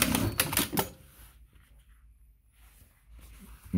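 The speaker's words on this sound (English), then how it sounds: "let's try the bar tagging on this one" A Juki DDL-8700-7 industrial sewing machine sews a bar tack in one fast rattling burst of stitches, then falls quiet apart from faint handling noises and a final click.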